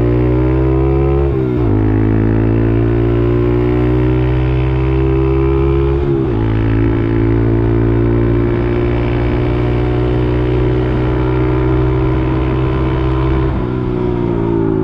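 A Honda CT 125 motorcycle riding at high speed, its engine droning loud and steady with a brief dip in pitch near the start and midway, as if shifting or easing off, then pulling again.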